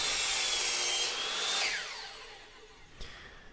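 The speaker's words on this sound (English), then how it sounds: "So pretty straightforward, just mark and cut." Pieces of wood are cut by hand for a dance pad replica. A loud, close rasping cut fades over a few seconds and ends with a sharp knock, with no speech.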